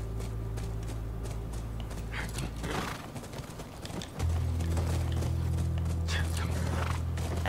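Horse hooves clip-clop in The Last of Us video game, a steady walking rhythm of moderate loudness under a low ambient drone, with no talk.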